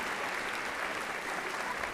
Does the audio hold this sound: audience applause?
yes